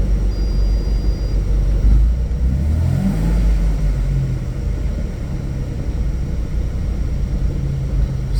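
Nissan Stagea M35 with a swapped-in manual gearbox driving in fifth gear, a loud continuous low rumble with a rising then falling whine in the middle, heard from inside the cabin with no talking.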